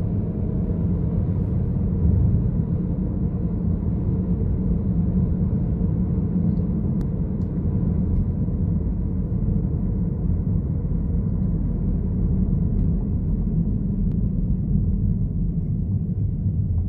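A 2011-2012 BMW 320i F30 with Stage 1 tuning accelerates flat out from a standstill. A steady, loud engine drone and road rumble run throughout, with no clear gear changes and no voices.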